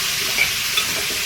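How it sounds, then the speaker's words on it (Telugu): Potato and capsicum pieces fry in hot oil, giving a steady, close sizzle with a couple of faint pops or stirring touches in a brief moment. "ఆయిల్లోనే మంచిగా ఫ్రై చేసుకోవాలి వీటిని"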